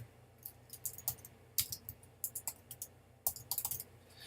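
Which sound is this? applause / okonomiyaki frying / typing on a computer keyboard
typing on a computer keyboard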